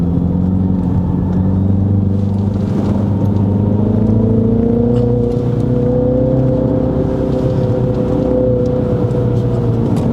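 A Mini Countryman JCW engine drones steadily at a constant low pitch, held in third gear in manual mode, with rumbling road noise throughout.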